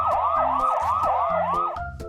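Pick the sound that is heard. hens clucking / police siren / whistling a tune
police siren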